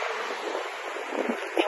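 Wind buffeting an outdoor microphone, a steady broadband roar with gusty swells throughout and a sharper gust near the end, no one speaking.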